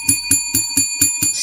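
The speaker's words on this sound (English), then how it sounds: "Let's ring the bell for the East Side." A bell rung in a building during a sports celebration, for the Atlanta Falcons' new head coach, sounding six clear, evenly spaced bright strikes about a quarter second apart, each with a sustained metallic ring, loud and close with no talk.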